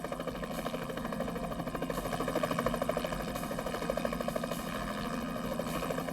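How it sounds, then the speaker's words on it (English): A helicopter fitted with an infrared heat-seeking system flies a search over South Carolina, its rotor chop and engine drone steady and fairly faint, with no talking. "they provided me with a helicopter equipped with an infrared system"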